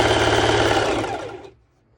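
An ordinary sewing machine runs a zigzag stitch through swimwear fabric, a close, rapid mechanical chatter that holds steady for about a second and a half, then stops abruptly into quiet.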